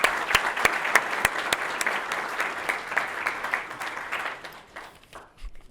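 An audience applauds at a family business of the year awards event, a dense burst of clapping with a few loud nearby claps that fades out over the last second or two.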